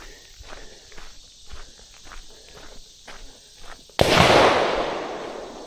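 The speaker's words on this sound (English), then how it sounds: "Shooting the guns over there." Footsteps crunch along a trail, then a single loud gunshot from a nearby shooting range cracks out and booms with a long rolling decay.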